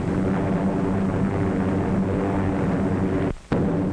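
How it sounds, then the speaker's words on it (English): Low-flying C-47 transport planes over drop zones, heard as a loud, continuous droning engine roar that holds steady for several seconds, then dips into a brief sharp break near the end before returning. "these C-47s haven't any armor, no guns, and have to fly low over the drop-in zones"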